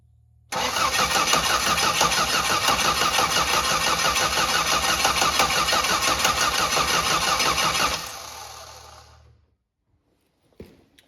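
A 1963 MGB engine being prepared for racing cranks briefly, catches and runs at a loud, steady idle, then shuts off and falls silent after several seconds.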